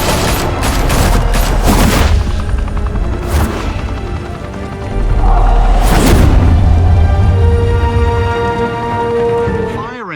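Heavy gunfire volley erupts after an order to open fire in the Batman Telltale video game, loud sustained bursts with booming impacts, a brief lull, then a second dense wave before fading into tonal music.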